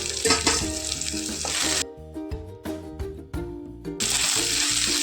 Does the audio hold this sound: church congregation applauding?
no